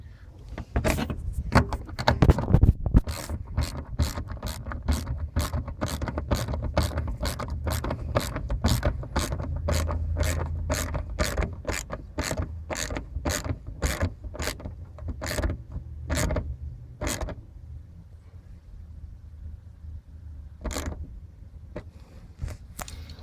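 Ratchet wrench working on a 1994 Dodge 318 V8 during an EGR replacement, a steady train of sharp clicks that slows and thins out toward the end, close and alone.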